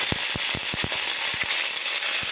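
Tempering spices crackle in hot oil over a constant close sizzle, with a quick series of sharp pops scattered irregularly across the moment, loud and near.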